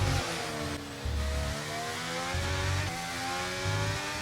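Formula 1 cars roar past while overtaking in the racing video game F1 23, loud high-pitched engine whine with rising and falling revs and pitch sweeps as cars pass close by.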